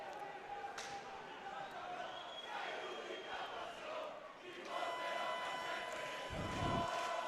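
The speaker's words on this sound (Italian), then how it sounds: "la foltissima rappresentanza di tifosi da una parte e dall'altra, due curve piene" Roller hockey fans packing two stands at a Serie A1 derby between Valdagno and Trissino: a steady crowd roar with chanting swells and a thudding drum, a commentator talking over it.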